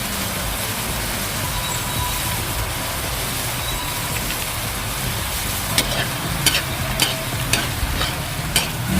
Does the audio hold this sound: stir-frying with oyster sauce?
yes